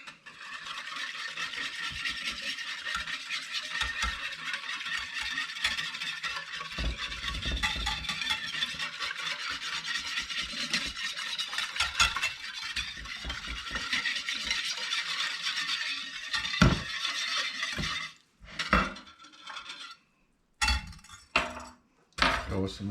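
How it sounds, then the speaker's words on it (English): Brown sugar brine for smoked trout is whisked in a container, a steady fast scraping and clinking that runs for most of the clip before breaking into a few separate knocks and taps near the end. "Give it a whisk."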